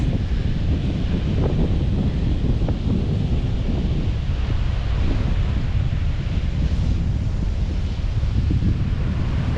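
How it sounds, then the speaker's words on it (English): Seawater rushes through a small inlet at Shroud Cay in the Exumas, a steady broadband wash mixed with buffeting wind on the microphone, with no talking. "Look at the water flowing through this little inlet."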